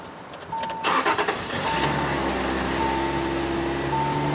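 A 2002 Subaru Outback engine cranks with a few quick stuttering turns, then catches and settles into a steady low idle.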